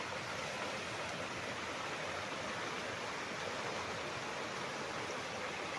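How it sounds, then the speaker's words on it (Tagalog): A river running along a farm lot, its water muddy after rain; a steady, faint, even rushing wash with no breaks and no voices. "Ayan ang ilog mga kapraps."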